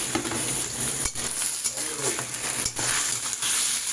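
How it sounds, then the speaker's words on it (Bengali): Small Ganges river fish tipped into hot oil alongside onions in a pan, frying with a steady crackling sizzle and occasional stirring scrapes, close and continuous throughout. "আমি এই মাছটাও একই সাথে তেলের মধ্যে দিয়ে দিচ্ছি"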